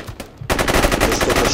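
Rapid, loud automatic gunfire in the tactical military shooter game Squad, a dense burst of shots starting abruptly after a brief quieter moment and continuing steadily.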